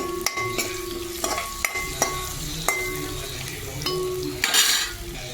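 Red chili powder is stirred into hot oil in a pan for a spiced chickpea guggillu snack, a steady sizzle broken by sharp, repeated clinks and scrapes of a metal spoon against the pan.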